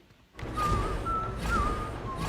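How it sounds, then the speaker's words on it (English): A cartoon character whistles the Ninjago theme song, a clear wavering tune of a few drawn-out notes over a low, steady rumble of background sound. "randomly whistling the theme song"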